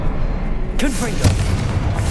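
Confringo fire-spell blast in the Hogwarts Legacy video game, a sharp whooshing burst with a second impact about half a second later, set amid continuous game background sound.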